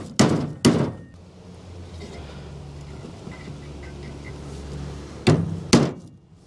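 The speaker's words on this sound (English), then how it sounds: "And then I'm just gonna hit this with a hammer and see if I can bend it back." Four sharp metal hammer blows strike a damaged nut on the exhaust of a 2004 Toyota Tundra, two quick hits at the start and two at the end, with a low steady hum between them.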